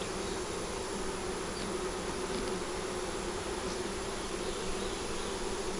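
Honey bees humming steadily in an open hive during an inspection, a dense continuous buzz of many insects close by with no pauses.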